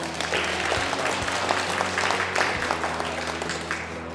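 A congregation applauds during a Korean Sunday church service, with dense, steady clapping from many hands throughout, moderately loud and a little distant.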